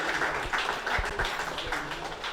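Congregation at a theological seminary opening celebration clapping hands together in praise, a steady spread of many hands heard from the room for a couple of seconds, with voices mixed in.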